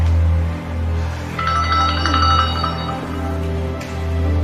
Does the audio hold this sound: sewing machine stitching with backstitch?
no